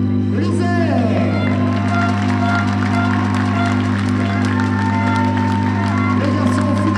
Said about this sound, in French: Mesdames, messieurs, applaudissements pour l'équipe de l'Isère.